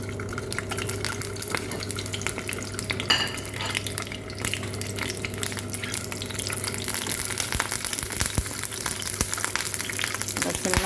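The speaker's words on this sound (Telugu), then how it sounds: "మనం ఇందులోనే గుడ్లు కొంచెం ఫ్రై చేసుకుందామండి." Eggs fry in oil in a pan, a steady sizzle and bubbling hiss running throughout, with occasional scraping and stirring clinks.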